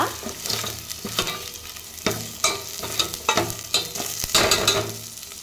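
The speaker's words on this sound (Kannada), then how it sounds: "ಈ ಥರ ಎಣ್ಣೆಲೆ ಚೆನ್ನಾಗಿ ಹಸಿಮೆಣಸಿನ್ಕಾಯಿ ಮೇನು ಫ್ರೈ ಆಗಬೇಕು" Green chillies fry in hot oil for methi dal, making a loud, close sizzle, while a spoon stirs and scrapes the pan in irregular clattering strokes.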